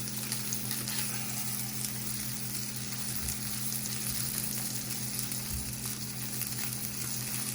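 Shrimp frying in a pan beside lemon pepper salmon, giving a steady, even sizzle with faint crackles and a constant low hum throughout.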